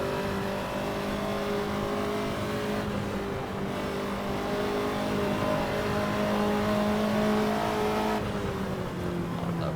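A Ferrari 288 GTO engine in the racing game Assetto Corsa revs continuously and loudly, with a steady, slowly building engine drone and faint tire noise throughout.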